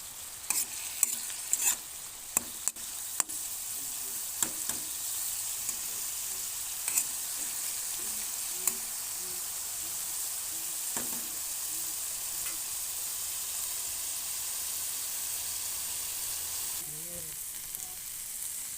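Pumpkin flowers fry in a pan with a soft, continuous sizzle, dotted with scattered faint clicks and occasional stirring scrapes, steady and quiet throughout; no talk.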